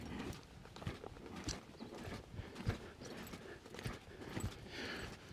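Rhythmic hoofbeats of a horse cantering through balance work and flying lead changes, steady clip-clop thuds repeating across a busy arena background with a faint voice.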